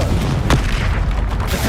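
A Confringo blasting curse from Hogwarts Legacy goes off as a loud, deep, booming burst with a rumbling tail, close and dense.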